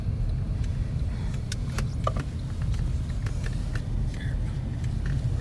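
A car drives along a snowy scenic road in winter, a steady low engine and road rumble filling the whole stretch with faint clicks and rattles above it.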